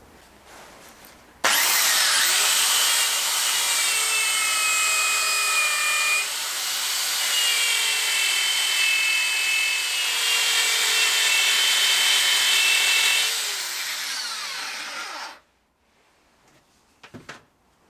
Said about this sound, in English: I've got my little wire brush and the drill, and hopefully clean in that hole there.